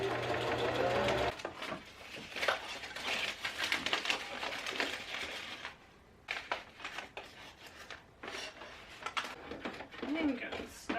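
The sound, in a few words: sewing machine stitching small bag from scraps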